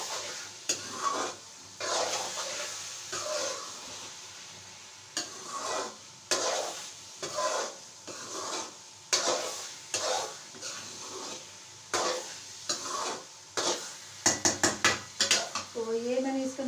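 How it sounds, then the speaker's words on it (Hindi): Carrot halwa is stir-roasted in a pan with repeated rhythmic scraping strokes of a utensil against metal, a light sizzle underneath and a quick burst of clinks near the end. "अब माशाल्लाह से इसकी भुनाई होगी।"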